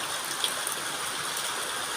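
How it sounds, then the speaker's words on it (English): Saved rainwater pours steadily over garden plants, a continuous, even splashing hiss with no breaks, moderately quiet and heard alone. "Watering the plants."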